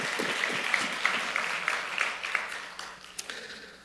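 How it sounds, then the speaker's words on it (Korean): A church congregation at a Wednesday worship service claps together, a rhythmic unison beat of hands at a steady pace that gradually fades toward the end, heard somewhat at a distance. "감사와 영광의 박수를 우리 한번 올려드리도록 하겠습니다"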